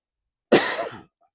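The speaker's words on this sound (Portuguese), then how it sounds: "Às vezes eu vou tossir" A single sharp cough from a man preaching, loud and close, a short burst of about half a second alone in silence.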